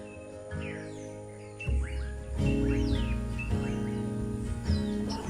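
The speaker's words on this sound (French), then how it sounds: "Les oiseaux sont jolis ce soir encore." Birds sing outdoors in the evening, with several sweeping chirps and whistles repeating at moderate distance over a low steady hum.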